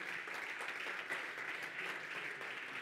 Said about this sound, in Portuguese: pedia-vos uma salva de palmas para quem pôs esta iniciativa de pé